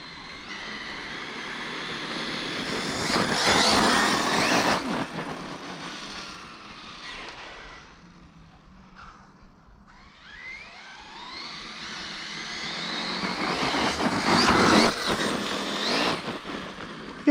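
An Arrma Typhon 6s RC car runs outdoors at about two-thirds throttle, its high electric motor whine swelling as it passes near, fading away in the middle, then building loud again.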